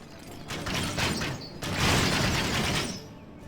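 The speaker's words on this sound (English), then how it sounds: "Was that just a test firing to make sure that your crossbows were working?" Crossbows test-fired in a medieval strategy battle game: a burst of clattering, creaking mechanical releases and rattling strikes, loud and busy, with a brief pause midway before a denser volley.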